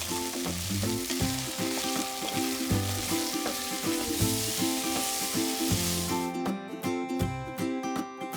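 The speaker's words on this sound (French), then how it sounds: "Réduisez la cuisson sur feu moyen et ajoutez les légumes dans la cocotte. Mélangez bien jusqu'à ce qu'ils soient parfaitement dorés." Vegetables browning over medium heat in a braising pot for braised beef, a continuous sizzle with frequent spoon-stirring scrapes, the frying hiss dropping away near the end and leaving sharp tapping knocks.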